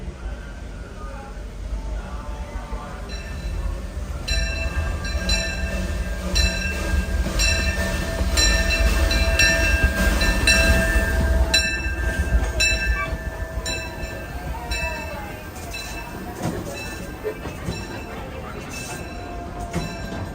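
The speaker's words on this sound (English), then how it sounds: "I tell people when the train's coming" A Disneyland train rumbles past at close range with rolling wheel noise and metallic squeals, swelling loud in the middle and then easing off, with voices in the background.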